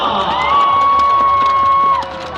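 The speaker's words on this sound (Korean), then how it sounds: "힘찬 응원의 박수를 보내주시기 바랍니다." A crowd at a V-League volleyball arena cheers and applauds during a ceremony marking a player's 500th appearance, a loud, dense wash of noise with a long sustained whooping tone riding above it.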